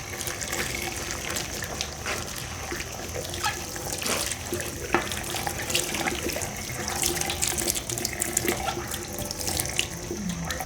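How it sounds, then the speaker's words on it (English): Kitchen cleaning tools are rinsed under a running tap, the water splashing and pattering unevenly into a sink close by, with clattering handling throughout and no talk. "Now let's rinse the things we used to clean the kitchen utensils"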